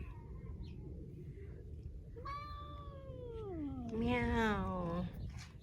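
An Angora cat gives a couple of drawn-out, rising-and-falling meows, the second louder and more strained, over a low background rumble.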